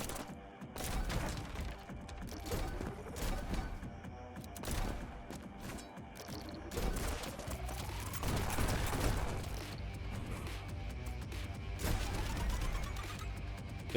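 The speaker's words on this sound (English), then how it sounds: "Okay, so shooting once here kills that guy." Rapid gunfire in the video game Neon White: repeated sharp shots and crashing impacts burst loudly one after another, with electronic tones sweeping underneath.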